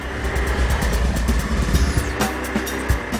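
Hero Karizma ZMR and Bajaj Pulsar 220 motorcycles accelerating hard at full throttle, a loud, steady engine drone rising in pitch without pause, close and dominant with no voices.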